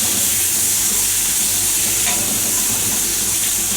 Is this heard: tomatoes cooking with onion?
yes